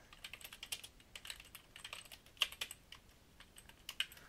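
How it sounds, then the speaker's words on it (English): Code typed on a computer keyboard: quiet, close, irregular bursts of light key clicks with short pauses and a few sharper strokes, heard alone without speech. "I can actually just type this in."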